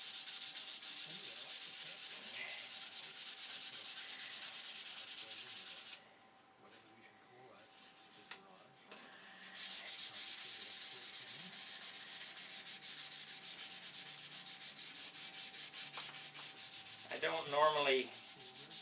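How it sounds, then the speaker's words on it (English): Steady, rhythmic rubbing of 320 grit sandpaper across a surface, close and continuous, pausing briefly partway before resuming with the same scratchy back-and-forth strokes. "And then you sand it until it's flat with the 320."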